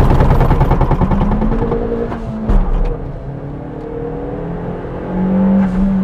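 A car revving hard on a half-clutch launch with the handbrake released, the engine note climbing and holding, then a brief thump as it pulls away; loud and close throughout with no talk.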